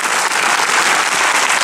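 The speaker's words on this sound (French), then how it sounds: "On les applaudit très très fort" Audience applause for the actors at a film premiere, dense and loud clapping from a full room, continuous throughout.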